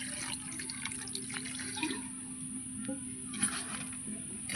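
Cold water runs from a tap over fresh chhena to rinse it while making rasgulla at home, a steady close splashing stream with an electrical hum beneath and a few clatters.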